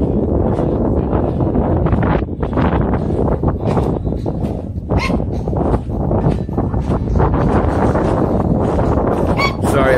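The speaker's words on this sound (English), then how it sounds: "Sorry about the wind." Gusty wind buffets the microphone at a busy lakeside campground on a holiday weekend, a loud, continuous rumble that surges and dips, with faint background bird calls and some speech-like sounds.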